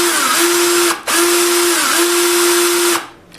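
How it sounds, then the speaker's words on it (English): A power drill spins a length of wire to straighten it, a loud close whine running steadily with a brief stop near one second and winding down at the end. "and spin your drill."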